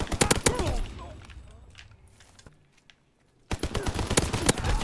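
Chatellerault LMG fire in Call of Duty WW2 sounds as dense, rapid bursts of gunshots, loud at the start and again at the end, with a quieter stretch between them that holds a few distant shots.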